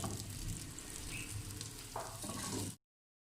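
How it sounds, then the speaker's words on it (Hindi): Vegetables tipped into oil left from frying chicken, sizzling steadily at close range with faint crackles and a brief stirring scrape, ending abruptly. "इसी ऑयल में सब्जियों को इस ऑयल में डाल देंगे"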